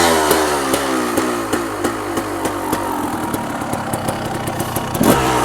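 A 1990 Honda CR250R two-stroke motocross bike with an SA Pro exhaust idles and burbles up close, a steady throbbing engine note with light blips throughout.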